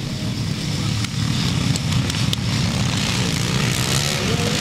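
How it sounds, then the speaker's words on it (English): Vintage CCM motocross motorcycles racing at a nostalgia scramble, a loud continuous engine roar with rising and falling revs from several bikes, no voices. "take a look at some classic CCM racing from the Nostalgia Scramble"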